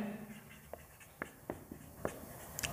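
Marker or chalk strokes on a board during a physics lesson, several short scratchy taps and squeaks spaced irregularly over a soft room background, fairly close.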